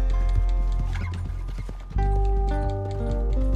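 Horse hooves clip-clop steadily in Red Dead Redemption 2, with a neigh or whinny rising over the galloping, all set against a busy game soundtrack.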